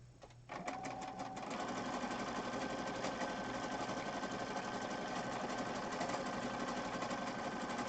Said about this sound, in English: now I'm going to sew all the way around the outside edge